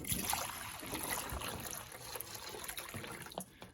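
A coonhound laps water from a bowl in quick, wet splashy bursts, close and fairly faint, with no talking.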